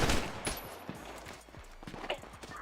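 Gunfire in a GTA roleplay shootout, a quick cluster of sharp shots and impacts over under three seconds, loud and close with scattered cracks.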